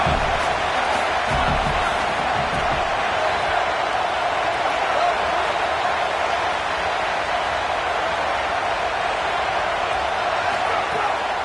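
A football stadium crowd at Auburn roars in a constant dense wash of noise on a 4th down, loud and unbroken for the whole stretch, with faint commentary voices underneath.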